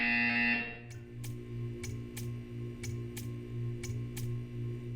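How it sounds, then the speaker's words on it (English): A buzzer in the video game Portal 2, a tone that cuts off after a moment, followed by a steady low hum with regular sharp clicks ticking about twice per second, faint and with no talk. "You will hear a buzzer. When you hear the buzzer, stare at the art."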